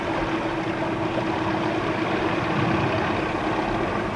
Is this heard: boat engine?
yes